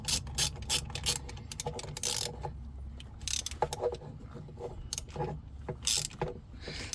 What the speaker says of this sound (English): this is an insulated socket wrench